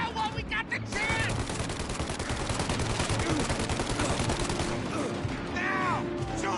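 Dense, sustained gunfire from a shootout in Mafia Definitive Edition, a continuous fusillade of overlapping shots and rapid automatic bursts with no pause, loud and close throughout, with faint voices mixed underneath.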